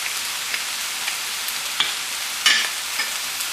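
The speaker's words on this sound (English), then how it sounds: "we're going to go ahead and add our ginger garlic paste in here" Ginger garlic paste hitting hot oil in a pan for beef lo mein, a steady bright sizzle with small pops and a few stirring scrapes, close and constant.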